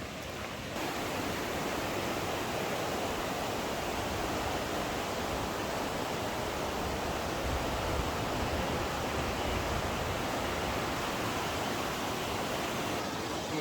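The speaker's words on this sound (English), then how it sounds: "I'm gonna assume this is Cutthroat Creek." Cutthroat Creek in the North Cascades rushes steadily near a small bridge crossing on a mountain hiking trail in June, a dense, continuous broadband water roar that holds at an even level throughout.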